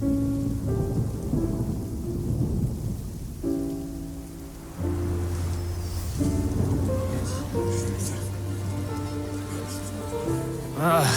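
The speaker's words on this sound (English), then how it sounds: "It's raining again?" Rain and rolling thunder in Genshin Impact, a steady wash of rainfall with low rumbles, layered under background music with tonal shifts and no clear talk.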